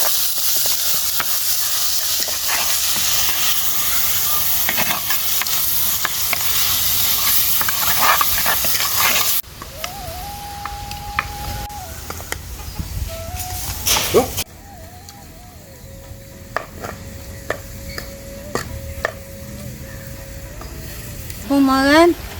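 Onions and tomatoes sautéing in a pan, a steady sizzle with stirring scrapes, joined later by faint beeps and other kitchen sounds.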